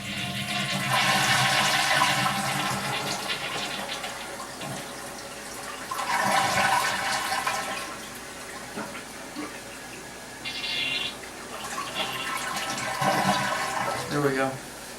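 A new household toilet flushes in a bathroom, its rushing water swelling and fading in several loud surges across the clip with a brief refilling trickle, while someone talks intermittently over it.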